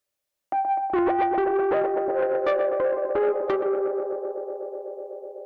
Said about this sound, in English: that's pretty much the delay being distorted